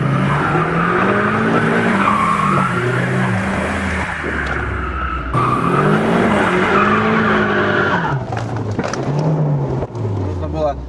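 A car drifting sideways at a drifting masterclass, its engine revving and rising and falling as the tyres squeal and skid, close and loud, with someone talking over it.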